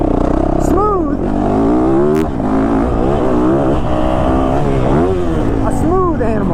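A 2022 Yamaha YZ450FX dirt bike engine pulls steadily at low revs while being ridden, with rising and falling pitch sweeps as the rider rolls the throttle; a voice talks over the engine throughout.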